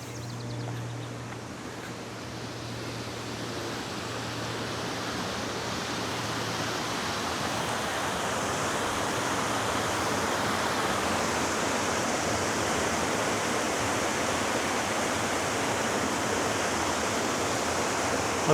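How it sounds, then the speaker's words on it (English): Small secondary waterfall on a clear tributary of the Niobrara River in Nebraska, a steady broadband rush of falling water that swells slightly louder over time, close and continuous with no voices. "Over here we have a secondary, smaller waterfall from"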